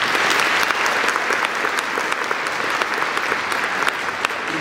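Sustained audience applause at a college graduation ceremony, a dense steady clapping from a large crowd in a hall, lasting several seconds without pause.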